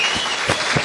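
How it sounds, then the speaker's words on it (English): Audience applause rolling steadily through the room for a fan Q&A interview with boxers Coogan and Cassius, a dense continuous clatter of many clapping hands. "I'd like to put your hands together for a splendid interview"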